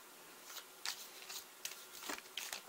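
Tarot cards being shuffled and picked, a quiet run of soft papery riffles and flicks coming in uneven bursts close by.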